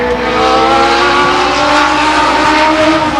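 A Legends race car lapping Stockton 99 Speedway roars past loud and close, a sustained buzzing engine note with steady pitch over a few seconds, no talk.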